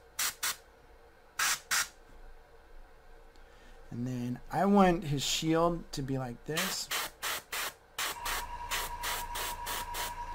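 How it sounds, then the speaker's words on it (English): An airbrush sprays primer onto a miniature's shield, armor and antlers in short, repeated hissing bursts, some rapid-fire and others longer, while someone talks over the middle stretch. "I'm kind of doing that spray all the way up the side"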